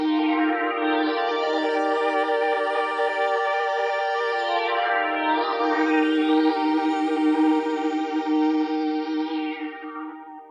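A sustained synthesizer chord washes through lush, echoing reverb from a UAFX Golden Reverberator pedal, its tone sweeping slowly up and down, loud and continuous throughout.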